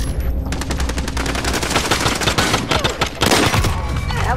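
Rapid automatic gunfire in a Call of Duty: Modern Warfare match, a dense, loud, continuous burst of shots rattling through the whole stretch, with faint background talk.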